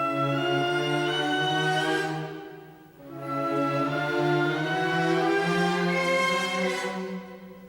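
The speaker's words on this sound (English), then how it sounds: "the very next thing that happens is again made of minor seconds, only this time they're rising instead of descending, like a great monster rising out of the sea." An orchestra plays a slow theme built from rising minor seconds, sustained strings and winds swelling loud, dipping briefly, then surging again in a dark, heavy tone with no voices.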